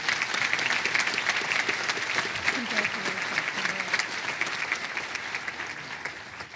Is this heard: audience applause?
yes